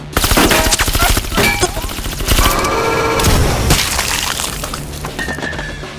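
Rapid gunfire and heavy explosions crash through a Half-Life firefight, loud and dense, with bursts of automatic fire layered over booms and shattering debris for several seconds.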